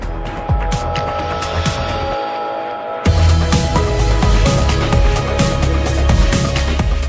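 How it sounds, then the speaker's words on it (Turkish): Compressor and plaster spraying machine running for Alseco Armatop MP render application, a steady close throbbing hum that thickens and grows louder about three seconds in. "Artık kompresör ve makine çalıştırılarak Alseco Armatop MP uygulamasına başlanabilir."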